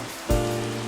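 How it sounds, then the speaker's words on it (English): Rain falls in the Minecraft video game, a steady close hiss of drops that swells suddenly and then holds constant. "It's raining, that's good for my crops."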